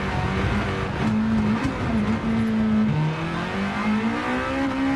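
Honda Integra Type R engine in Gran Turismo 7, droning steadily and loud throughout, pitch climbing and dropping through gear changes as the car is driven on track.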